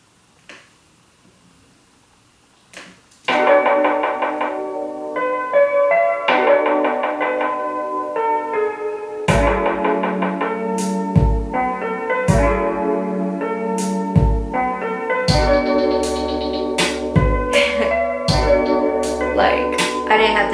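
A lo-fi beat with filtered drum effects: mellow chords come in first, then punchy kicks and crisp percussion layer in, with a deep bass pattern carrying a steady rhythm alone throughout.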